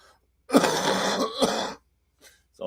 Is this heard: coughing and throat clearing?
yes